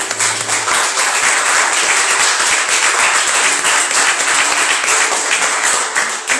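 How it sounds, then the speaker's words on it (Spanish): A church congregation claps at a Palm Sunday service, dense and continuous, with a brief voice at the very start. "Entonces, un fuerte aplauso a Cristo."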